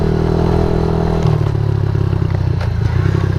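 A Suzuki DRZ 70 mini dirt bike climbs uphill with an adult rider. The small engine drones loud and close, buzzing steadily, and drops in pitch partway through as the load changes.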